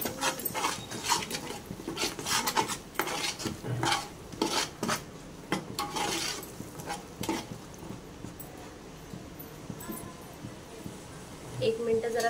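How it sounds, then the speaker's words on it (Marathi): Spices frying in oil in a pan for chana gravy, with a soft sizzle under clattering utensil knocks and scraping stirs, while someone talks over most of it. "आता चांगले मसाले आपल्याला तेलामध्ये हे देखील फ्राय करून घ्यायचे"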